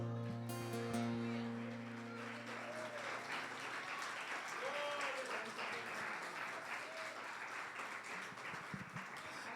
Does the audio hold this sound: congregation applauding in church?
yes